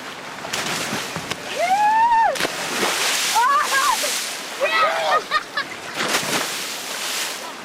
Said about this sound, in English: I'm going for a swim.